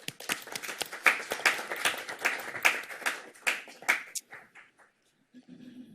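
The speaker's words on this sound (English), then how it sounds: "I think we can clap for them" At a Santa Monica city council meeting, a small group claps in a burst of sharp, uneven hand claps that thins out and stops after about four seconds, with a faint voice starting near the end.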